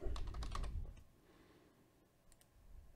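Quick bursts of key clicks on a computer keyboard, a flurry of typing at the start, a pause, then a few more taps, close and quiet.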